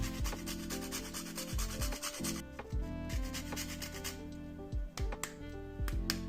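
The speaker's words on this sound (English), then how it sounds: "Might as well grate in some nutmeg here too." Whole nutmeg rubbed against a grater over a sweet cracker pudding, a steady run of close, dry rasping strokes with brief pauses, no talking.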